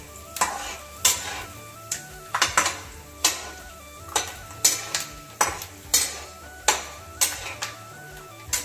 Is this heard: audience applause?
no